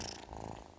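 A cat purrs softly in a British Gas boiler radio advert, a brief low rumbling purr, quiet and close.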